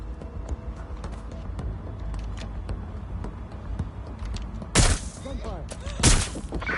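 Gunfire in a Watch Dogs video game shootout, scattered shots over a busy background and then two loud, sharp bursts near the end, with a voice talking at times.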